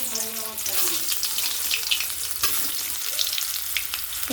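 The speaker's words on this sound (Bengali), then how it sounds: "এবার আলুটা এক এক করে ভাজা করতে দিলাম" Potatoes fry in hot oil in a wok, giving a loud, steady sizzle and crackle with a brief early scrape or stir and no talking.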